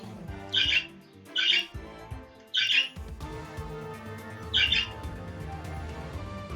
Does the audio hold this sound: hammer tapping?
no